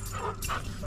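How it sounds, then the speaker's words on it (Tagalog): Dogs let out a brief, close bark and yip in a single quick burst, at moderate loudness. "Ito na naman ito, mga aso na ito."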